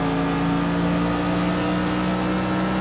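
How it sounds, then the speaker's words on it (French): Mercedes-AMG GT3 race car engines in the Project Cars 2 racing game, a steady, loud droning engine tone that holds evenly throughout with no speech. "Elle accélère bien la voiture devant."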